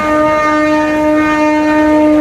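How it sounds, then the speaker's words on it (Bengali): A passenger river launch, the Kirtankhola 10, sounds its horn: one loud, steady, unbroken tone that holds throughout at close range. "হর্ন বাজাচ্ছে"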